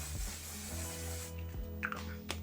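Makeup setting spray hisses from a pump bottle in a steady mist of about a second, followed by softer rustling and a couple of faint clicks nearby.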